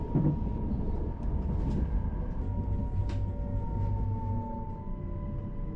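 A passenger train crosses a viaduct and pulls into a rural station in the Belgian Ardennes, giving a steady, continuous rumble of wheels on rail with a faint high brake squeal running through it.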